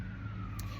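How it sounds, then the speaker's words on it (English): An emergency siren wails faintly in the background, a thin steady tone over low ambient rumble. "just like the siren you hear in the background, baby, it is loud."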